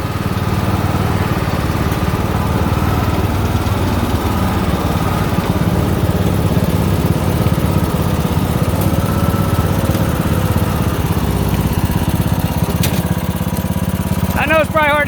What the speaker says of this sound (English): it's the Craftsman I promised everybody they'd hear run